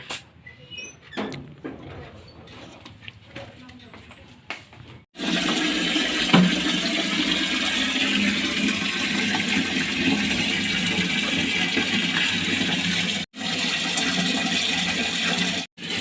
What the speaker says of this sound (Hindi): यहाँ पर पानी चला रखा है, पानी बाल्टी भर जाएगी तो स्विच ऑन करना है